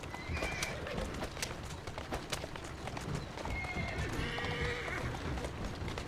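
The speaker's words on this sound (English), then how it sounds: "Who's a good horse?" In Assassin's Creed Syndicate, horse hooves clip-clop in a steady rhythm as a horse neighs and whinnies, with a busy street ambience around it.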